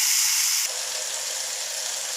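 Ridge gourd and fish frying in a pan: a steady, loud hiss of sizzling oil that softens slightly partway through and then carries on evenly, close up with no voices.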